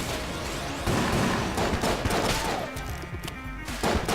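Gunfire in Enter the Gungeon crackles as dense rapid shots, loud and close. The shots form a near-continuous fusillade that is briefly interrupted and then resumes.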